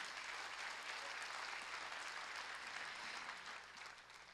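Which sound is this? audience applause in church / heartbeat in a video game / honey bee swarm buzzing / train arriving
audience applause in church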